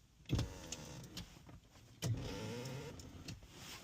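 Electric seat motor in a 2006 car moves the seat with the engine off, two whirring motor runs near the start and halfway through, close and fairly quiet with small clicks between.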